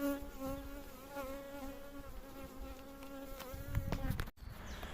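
Honeybees buzz steadily around an open beehive while a honey super is added in an apiary, a close, continuous insect drone with a brief dropout near the end.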